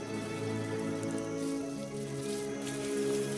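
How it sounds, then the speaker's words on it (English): Steady rain falls on the African savanna in early wet-season downpour, a continuous dense patter with no speech, even and moderately loud throughout. "The first drops of rain trigger a remarkable event."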